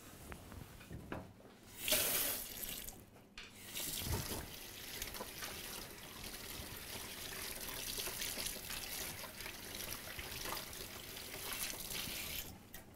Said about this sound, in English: now I'm going to wash these so I can beat the egg whites